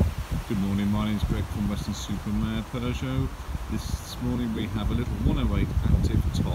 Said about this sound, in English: Sorry about the wind this morning, obviously a very windy day